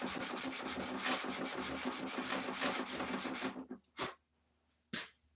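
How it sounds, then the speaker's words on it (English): 100 grit sandpaper rasps back and forth in quick, even rhythmic strokes, close and steady, then slows to a few separate swipes with quiet gaps between them. "we're going to take 100 grit sandpaper"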